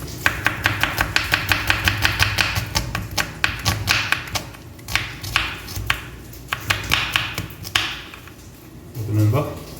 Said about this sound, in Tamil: நல்லா சின்னதாக இந்த மாதிரி கட் பண்ணிக்கோங்க நண்பா.